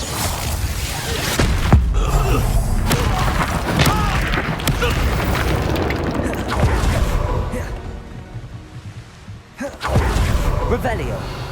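Fiery Confringo blasts erupt in Hogwarts Legacy duelling combat, sharp booming bursts with whooshes over a dense bed of battle effects and game music, with a quieter lull before a final strong hit.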